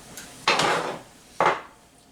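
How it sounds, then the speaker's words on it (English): Butter dropped into a soup pot gives two soft, fairly loud thuds with a brief rattling clatter of the pot, about a second apart, with no talking. "Now I've got my soup pot going here. I'm going to throw just a little butter in here."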